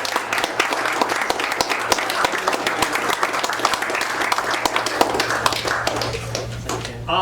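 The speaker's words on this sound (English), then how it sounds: "We can give them a round of applause." Audience applause at a spring signing day ceremony, steady dense clapping from a crowd filling the room throughout, with a low hum underneath.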